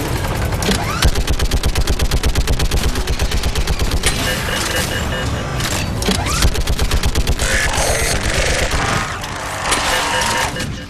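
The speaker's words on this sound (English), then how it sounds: "The shooting sound effect for this gun." Rapid automatic gunfire from a gun in Mass Effect 3 rattles nonstop in dense bursts, loud and close, with occasional heavier booms and mechanical clatter mixed in.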